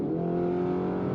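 A Lamborghini Urus Mansory Venatus accelerating hard on the Autobahn, a loud, steady engine roar with a rich droning tone heard close and continuous throughout, no speech.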